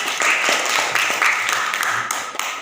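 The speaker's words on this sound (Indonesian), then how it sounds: "Oke, tepuk tangan" A classroom group applauds after a presentation, a dense patter of many hands clapping close by for a couple of seconds, with voices mixed in.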